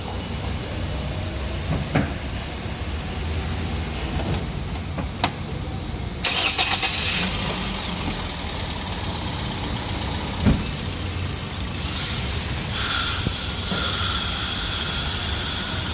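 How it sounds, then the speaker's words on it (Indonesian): A Toyota Vios former taxi cranks and fires up via a push-button start, then settles into a steady, even idle, with a few clicks and knocks from inside the car. "saya pencet ini, saya akan hidupin mesinnya ya"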